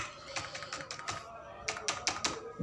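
English text typed on a computer keyboard, a quick run of close, crisp key taps in uneven bursts with faint room background.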